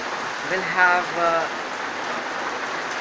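Heavy rain falls steadily, a dense continuous hiss at moderate loudness throughout, with someone speaking briefly over it.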